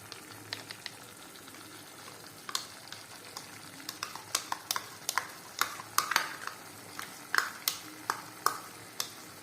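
Whisked sour yogurt goes into hot spiced oil in a pan, with a soft sizzle under a run of sharp clinks as a utensil stirs against the metal.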